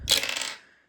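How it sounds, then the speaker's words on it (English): An eight-sided die rolled during a Monopoly-style board game gives one short, close clatter that settles and fades within a second. "Roll a D8."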